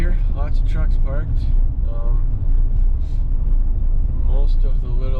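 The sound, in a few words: truck driving on back roads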